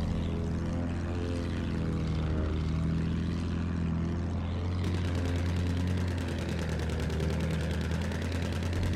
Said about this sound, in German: Ich sehe ein Flugzeug.